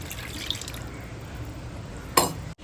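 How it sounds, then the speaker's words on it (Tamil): Mutton cooking stock for biryani is poured into a pot, a soft steady watery trickle close by, ending in a brief louder splash. "இப்போ குக்கரில் ஊற்றி வச்சிருந்ததையும் நான் நல்லா ஊற்றிட்டேன்"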